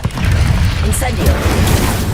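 Incendio fire spell cast during Hogwarts Legacy combat, a loud booming burst of magic amid ongoing battle effects, with a voice shouting over it.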